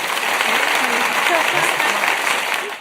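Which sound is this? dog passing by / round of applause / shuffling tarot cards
round of applause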